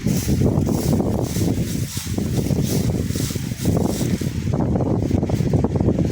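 Gusty wind buffets the microphone in a farm field, a loud, rough rumble that rises and falls in bursts throughout.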